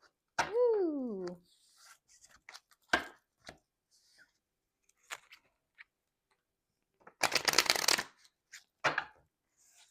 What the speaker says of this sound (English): Just going to do a really quick shuffle.